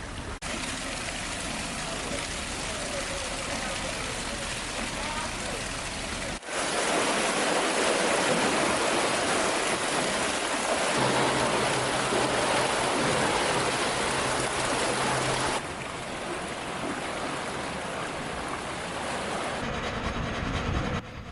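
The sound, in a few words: water rushing in as canal lock gates open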